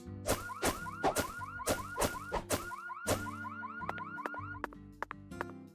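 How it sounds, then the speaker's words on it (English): A car alarm in the video game Deadly Premonition 2 blares in loud, repeating up-and-down whooping cycles, then shifts into a faster pulsing pattern toward the end, with no talk over it. "Good thing the car alarm goes off the moment you're done punching it."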